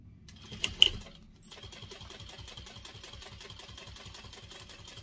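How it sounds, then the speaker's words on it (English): A sewing machine top stitches one side of a chicken-shaped fabric pot holder at a 1/8 inch seam. A short clatter comes first, then steady, rapid, rhythmic stitching runs close and alone. "I'm going to top stitch just this one side"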